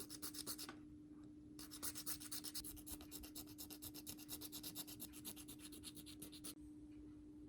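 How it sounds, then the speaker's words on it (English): A small file sands the sides of a plastic RC Hot Wheels 67 Ford Mustang car part in quick, steady rasping back-and-forth strokes, close and quiet, broken by short pauses. "one of these small files and just sand the sides on both sides"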